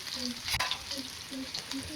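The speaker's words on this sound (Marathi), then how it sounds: "तेलात छान परतून घेऊ" Crushed garlic sautés in a ladle of oil on a flat pan for a vegetable dish. The sizzle is soft and steady, with faint stirring scrapes and a few tonal clinks of the utensil.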